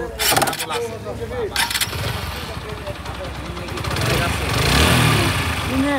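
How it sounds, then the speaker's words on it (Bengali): A 160 4V motorcycle engine runs with a rattling, clattering noise from an overly tight chain, rising louder toward the end, while people talk over it nearby. "এটা হচ্ছে চেন থেকে এই নয়েজটা আসতেছে"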